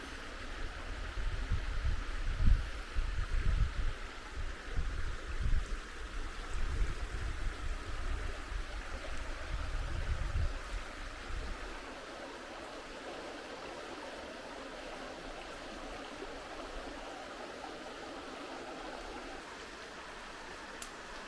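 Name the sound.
quiet stream water flowing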